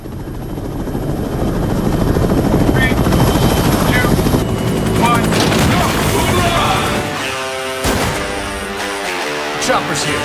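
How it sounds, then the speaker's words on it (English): Helicopter arriving in the video game Sniper Ghost Warrior, a loud, close rotor thrum building and holding, then fading under music and scattered impacts, with some dialogue over it. "Chopper's here."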